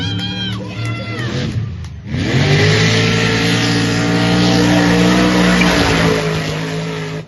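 A race car roars through a corner and then revs hard, a loud sustained engine note that rises and holds after a brief dip, with possible crowd noise underneath.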